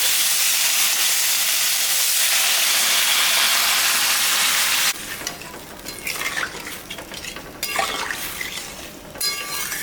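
A loud, dense hiss of frying spice paste for fish curry fills the first half, then broth is poured in and the sizzle drops to a bubbling, uneven crackle with stirring scrapes.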